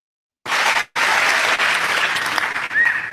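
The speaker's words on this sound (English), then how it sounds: "There was like applause and he said hello." Applause plays back from a recording, starting abruptly after a short silence, dropping out briefly, then resuming as dense, steady clapping to the end.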